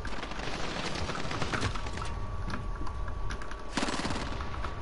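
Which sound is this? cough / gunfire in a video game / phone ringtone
gunfire in a video game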